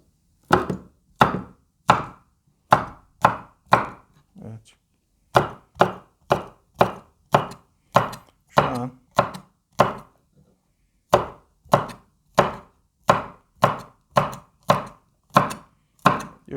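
A Pirge Elite chef's knife chops through a hard pepper on a board. Sharp, evenly spaced strikes, roughly two dozen of them, follow one another with short silent gaps between, close and clear with no talking.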